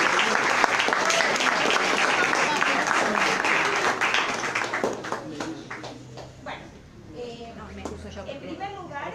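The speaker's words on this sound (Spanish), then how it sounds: "renovemos el aplauso para los disertantes" An audience at a library presentation on pre-Hispanic cultures claps for the speakers, steady applause that gradually thins out and fades over several seconds.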